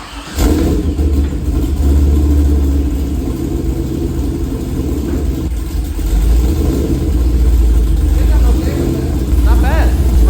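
A cammed Chevrolet Corvette C5 V8 fitted with new mufflers cranks and fires. It then settles into a loud, deep, lumpy idle that rumbles steadily close by, and voices speak over it.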